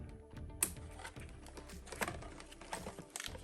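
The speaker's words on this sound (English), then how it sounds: "I'm going to go get some scissors and then cut her out" Scissors cut through cardboard packaging during an unboxing in a string of close, crisp snips and crunches. The cuts come in irregular bursts, with quiet pauses between them.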